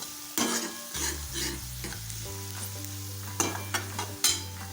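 Onion sautéing in a pan for dhaba-style shev bhaji, a steady sizzle with stirring scrapes and a few sharp clinks, all under background music.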